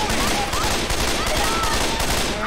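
Dense, continuous automatic gunfire in the video game Left 4 Dead 2, a loud sustained fusillade of overlapping shots with chaotic game noise.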